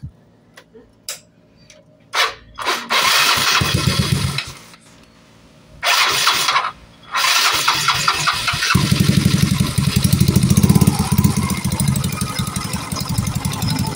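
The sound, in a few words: Yamaha Mio Sporty motorcycle engine starting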